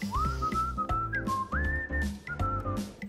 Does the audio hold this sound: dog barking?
no